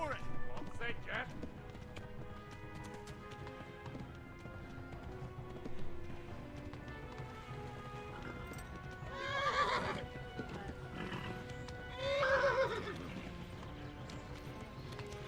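Horse hooves clip-clopping and a whinny from a galloping horse in a video game, steady hoofbeats running throughout with louder neighing bursts near the end, mixed under game music and talk.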